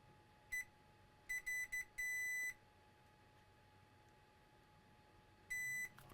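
A multimeter in continuity mode beeping while testing a coil on a Mercedes-Benz C230 key fob circuit board: short electronic beeps, one quick, then a cluster of three, a longer tone, and another later, in a quiet room.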